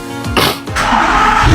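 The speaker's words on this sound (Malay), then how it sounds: "kita start dulu kereta" An Audi R8 engine cranks briefly, then catches and roars into a loud, steady idle rumble close by.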